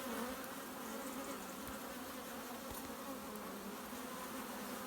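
Honeybees swarm around a hive entrance while the hive is in swarm mode, in a dense, steady buzzing drone, many insects humming at once close by with no voices.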